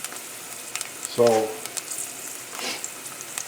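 Garlic fries in a hot pan for spaghetti with roasted garlic and mushrooms, giving a soft steady sizzle with light stirring, while a voice speaks briefly over it.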